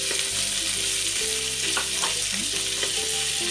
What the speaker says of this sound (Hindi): अब इसके अंदर हम आलू डालेंगे